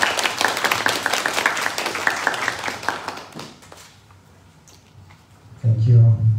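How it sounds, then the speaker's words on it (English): Audience applause at a design lecture, a dense burst of clapping over the first three seconds that thins and fades into quiet, followed by a loud low thump near the end. "So please give a warm round of applause for our speakers."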